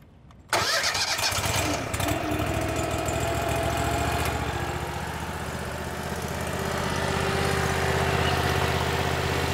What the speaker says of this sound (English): let me go ahead and start that engine